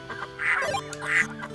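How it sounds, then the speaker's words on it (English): Two loud, nasal duck quacks from the video game Baten Kaitos, evenly spaced about two-thirds of a second apart, close and clear with nothing else over them. "These ducks, jeez."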